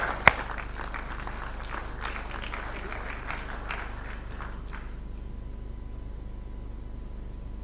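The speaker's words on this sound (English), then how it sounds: "So please give a big round of applause to Max." Audience applause for a speaker at an arable farming conference on biocontrol, a faint dense patter of clapping for about five seconds that fades out into near silence.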